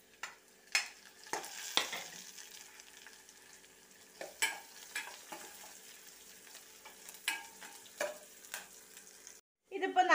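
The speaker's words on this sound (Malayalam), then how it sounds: "ഇതിലേക്ക് നമുക്ക് പച്ചമുളക് ഇട്ട് കൊടുക്കാം." Green chilies fry in oil for rasam: a soft sizzle under intermittent sharp scrapes and knocks of a stirring spoon against the pan, cut by a brief gap near the end.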